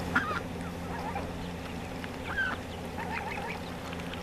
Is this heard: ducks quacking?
yes